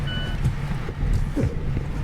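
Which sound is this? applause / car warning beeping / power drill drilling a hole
car warning beeping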